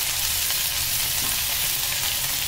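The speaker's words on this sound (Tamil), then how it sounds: "லைட்டாக வதக்கிடுங்க." Mint, green chili and garlic sizzle steadily in a hot pan, a close, even frying hiss with faint stirring and no talk.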